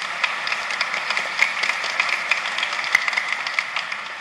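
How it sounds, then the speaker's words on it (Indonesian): Applause for graduating junior high students at a church thanksgiving mass, a dense, steady crowd clapping heard throughout at moderate distance. "Tepuk tangan untuk Anda semua"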